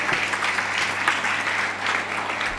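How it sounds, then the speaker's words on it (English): An audience at an international academic conference claps in a short, steady burst of dense applause. "I want a huge round of applause."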